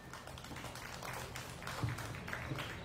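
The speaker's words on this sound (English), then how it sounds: "Let's give her a nice round of applause." Soft, scattered applause from a small crowd at a dairy and pygmy goat show, with faint, fairly distant clapping for the reserve champion pygmy goat that keeps going throughout.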